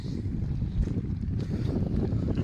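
A Sonalika 245 DI tractor engine runs in a cotton field, a steady low rumble with heavy wind buffeting the microphone throughout, close and loud with no talk.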